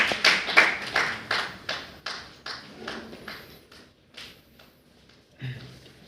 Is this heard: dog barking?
no